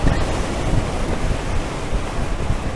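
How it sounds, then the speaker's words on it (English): Blustery wind around Lowestoft in Suffolk during a ride on a Super Soco TSX electric motorcycle, a loud, continuous roaring rush buffeting the microphone, with no talking over it. "God, it's blustery"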